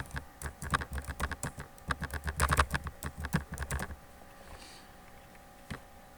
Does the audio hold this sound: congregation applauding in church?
no